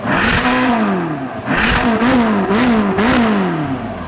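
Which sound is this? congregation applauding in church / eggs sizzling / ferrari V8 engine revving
ferrari V8 engine revving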